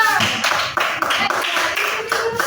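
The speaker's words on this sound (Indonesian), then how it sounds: "Tepuk tangan untuk kelompok kita" A classroom full of people clapping steadily together, dense and fairly loud, with a few voices mixed in.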